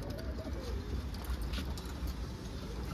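Pet birds, pigeon- or dove-like, call and coo in a steady, busy chorus over a constant background hiss, with no talking.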